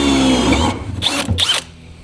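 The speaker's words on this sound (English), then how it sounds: "I need to drill the hole bigger on that side." A power drill enlarges a hole for a gas line aboard a floating home: a loud, steady whining drill run, then two short bursts with pauses between.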